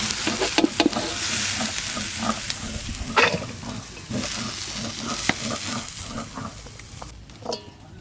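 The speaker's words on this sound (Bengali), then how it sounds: "লবণ হলুদ ছাড়াই বাঁধাকপি আর আলু বেশ ভালো করে ভাজা ভাজা হয়ে গেছে।" Cabbage and potatoes fry in mustard oil in a pan, a steady crackling sizzle with repeated scraping stirs and clinks of a spatula, close and fairly loud, with no talking.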